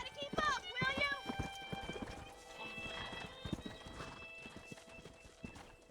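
Horse hooves clip-clop over ground in the Red Dead Redemption video game, a steady walking rhythm heard under continuous talk, with a whinny near the start.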